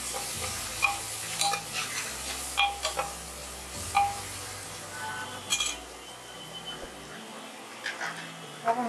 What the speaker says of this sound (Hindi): ये अदरक लहसुन भी अच्छे से इसमें भून आ जाएगी